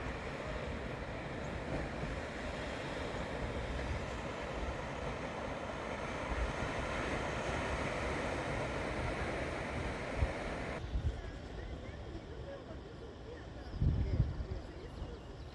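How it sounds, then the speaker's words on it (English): Waves breaking on the shore at Tunnel Beach near Dunedin, a continuous broad wash of surf with wind noise, fairly loud and steady, easing slightly near the end with a couple of brief knocks. "Waves crashed upon the shore as the cool wind blew upon your face."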